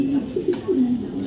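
A male racing pigeon coos close by, a few soft, low throaty notes in quick succession with a brief rustle partway through, alone and fairly quiet.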